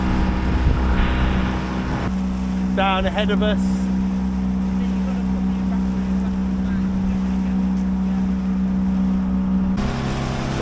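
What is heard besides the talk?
motor boat on the River Odet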